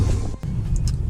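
A car engine, called Bruce, idles steadily while warming up after an oil catch can install, a continuous low rumble with a brief dip partway through.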